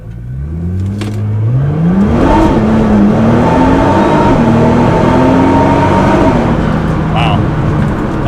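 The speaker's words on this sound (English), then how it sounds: "We're just going to accelerate really good" A tuned Nissan GT-R accelerates hard from a roll, its engine note climbing steeply through rising revs and gear changes, loud and close from inside the car, with a voice briefly audible.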